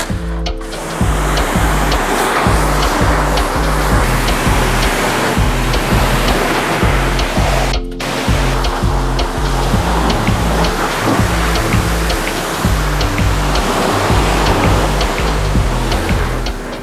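Spray water rinses soap suds off a car's exterior, a loud, dense hiss of splashing water running steadily and close by with a brief break midway, no voices.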